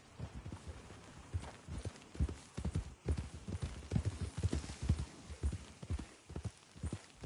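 Horse hooves from Red Dead Redemption 2 clip-clop in a steady walking rhythm on firm ground, soft and moderately close, with no talk over them.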